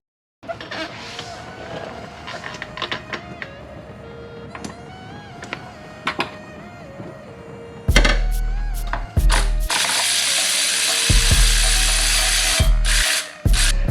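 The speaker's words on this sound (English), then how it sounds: "before we try to remove this transmission by taking out all the bolts" Bolts being removed from an Infiniti G37 transmission with power tools: quieter clicks and tool bursts at first, then loud sustained whirring and rattling of a drill or impact tool running in long bursts, close by.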